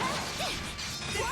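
A Flashball attack lands in the action game Ys X: Nordics, a sharp crashing impact with a whooshing swing, loud and close over busy game effects and music for a little over a second.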